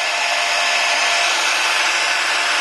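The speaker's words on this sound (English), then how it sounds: "It's always good to have a heat gun, or if you don't have a heat gun, use a blow dryer." A heat gun or hair dryer blowing hot air onto an iPhone 5 screen during an LCD repair, a steady, loud, unbroken airflow roar held close throughout.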